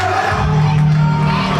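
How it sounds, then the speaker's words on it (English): A crowd at a wrestling event cheers and shouts for the Black Ranger, a dense roar of many voices rising loudly and sustained throughout. "Strangely, Kelly, we've actually got a Black Ranger cheering section here tonight."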